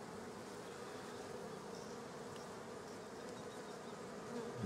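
Steady, dense buzzing of honey bees at a garden apiary hive, continuous and fairly quiet throughout, with no voices.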